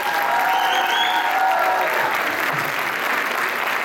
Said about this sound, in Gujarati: ફરીથી એકવાર જોરદાર તાળી